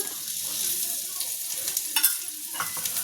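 Potato cutlets fry in a pan with a spoonful of oil, a steady close sizzle with light crackles and occasional sharper pops, heard alone without talk.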